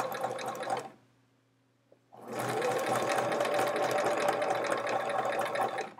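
A sewing machine stitches half-square triangle pieces for a chevron quilt, running in a short burst, stopping for about a second, then running steadily again, close and continuous.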